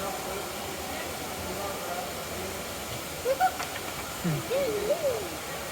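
A few soft, wavering hoots rise above a steady hiss of background noise, faint and somewhat distant.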